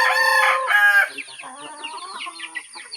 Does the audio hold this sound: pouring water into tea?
no